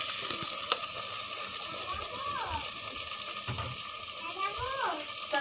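Spices sizzle in a frying pan while being stirred for Dhakaiya chicken biryani, a steady close hiss with occasional scraping and splashy bursts, faint voices under the frying.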